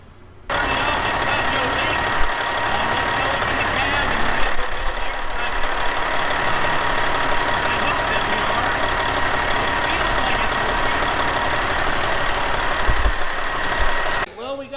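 A CAT truck engine idles steadily and loudly just after its air compressor was replaced, a continuous rumble holding from start to finish before cutting off abruptly near the end.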